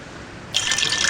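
Water runs into a water purifier in a survival video game, a soft background hiss that suddenly swells into a bright, steady splashing pour partway through, with no voices.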